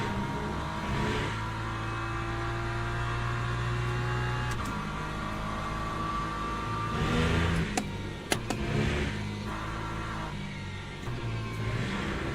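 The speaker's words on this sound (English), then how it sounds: "I downshifted too quick" Race car engine in the Le Mans Ultimate sim racing game, droning steadily with a quick downshift and a brief rev blip around the middle, loud and continuous with no talking.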